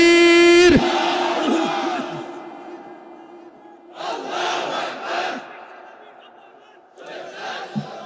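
A crowd gathered for a Bengali religious sermon shouts back in unison after a takbir call, with two loud chanted bursts a few seconds apart following a strong voice.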